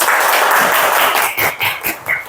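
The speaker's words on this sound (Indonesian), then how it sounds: "Tepuk tangan semua." A classroom of students at a catechetics school in Semarang claps together in a short burst of loud, close applause that breaks into a few separate claps at the end.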